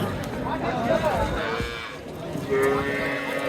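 Cattle, including cows with calves, moo nearby, several low drawn-out calls, with voices and general bustle of a livestock market in Chapainawabganj, Bangladesh in the background.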